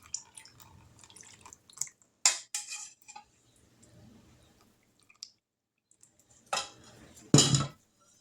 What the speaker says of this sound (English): So now we're going to pour some berries into this.